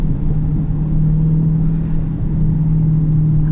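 A 2020 Dodge Challenger Hellcat idles with a deep, steady engine rumble, loud and close, holding an even low drone throughout without any clear revving.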